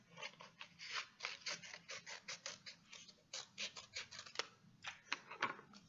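Scissors snip through craft paper in a rapid, irregular series of crisp close cuts, quiet and continuous, with no voices.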